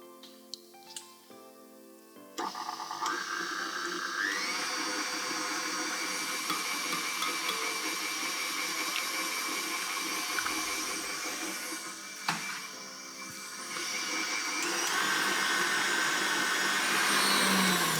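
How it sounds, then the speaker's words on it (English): Electric whisk running continuously as an egg is beaten into creamed butter and sugar for a blueberry pudding batter, a steady motor whine that starts after a few seconds and holds fairly loud throughout, rising slightly near the end. "So add that and whisk it in."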